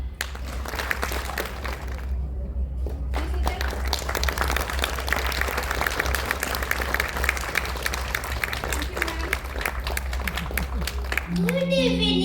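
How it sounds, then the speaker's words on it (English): Crowd applause at a pre-school annual day, dense steady clapping throughout over a low hum, with a voice beginning to speak at the end. "Please join me in giving a big round of applause for Ipshita ma'am."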